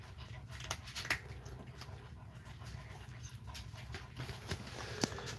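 An old dog pants in quick, steady rhythm close by at low volume, with faint clicks and soft movement noises scattered through, in a quiet farm home.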